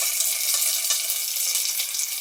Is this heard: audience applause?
no